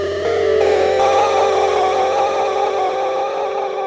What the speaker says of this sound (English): So here's with the chorus on.